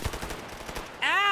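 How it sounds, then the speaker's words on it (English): Video game gun rapid-firing an unusual bullet, a burst of repeated close shots followed by a ringing, sweeping electronic tone. "it looks good, plays good, fires a weird bullet that almost no other gun fires"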